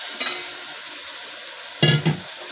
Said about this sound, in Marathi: आणि परतून द्यायचं चांगलं